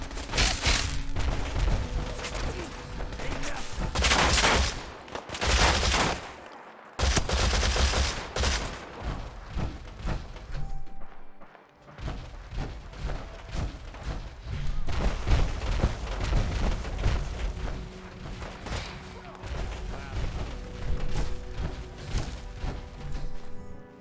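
Dense bursts of fusion weapon gunfire in the Fallout 4 video game, loud continuous volleys and booms with a brief gap of near silence midway, then sustained rapid shooting.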